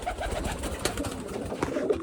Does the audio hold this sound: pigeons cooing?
yes